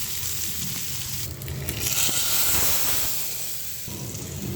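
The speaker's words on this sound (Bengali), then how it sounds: "বিসমিল্লাহ, দিয়ে দিলাম পেঁয়াজ," Chopped onions hitting hot oil in a pan while cooking a Bengali-style kingfish curry with peas, giving a loud, steady sizzle and hiss that swells midway and stays continuous with no talking.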